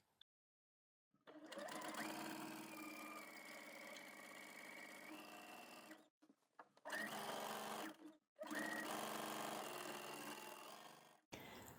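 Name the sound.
sewing machine stay stitching coat lining collar edge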